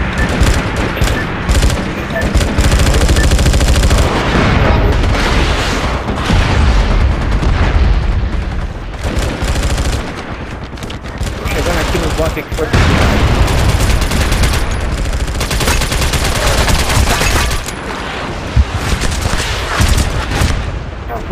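Dense, sustained video game gunfire crackles and booms almost without pause, loud and close, with brief lulls between volleys.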